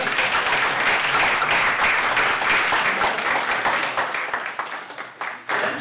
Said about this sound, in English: let's have a round of applause for 56